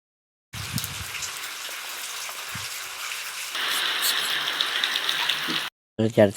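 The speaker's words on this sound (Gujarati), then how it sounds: "રાજકોટ સિટીમાં બહુ ધમધોકાળ વરસાદ છે" Heavy winter downpour in Rajkot: a steady, dense hiss of rain that grows louder partway through, then cuts off as a brief voice is heard.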